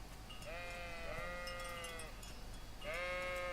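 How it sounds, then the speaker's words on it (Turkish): Sheep bleating in the medieval video game Kingdom Come Deliverance, two drawn-out wavering bleats separated by a pause, close and clear over a low ambient background. "Kimin koyunları bunlar?"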